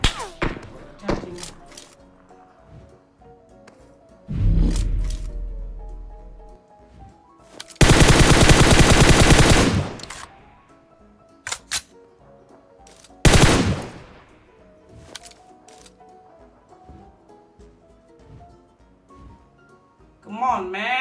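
Gunfire in a video game: several loud bursts of rapid automatic fire, one long sustained volley in the middle, plus scattered single shots and thuds, close and dominant, with people talking between the bursts.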